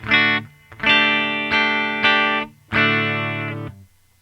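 Distorted electric guitar chords through a Line 6 HD500X ring out in separate bursts, each one trailing off with a delayed echo tail after it stops.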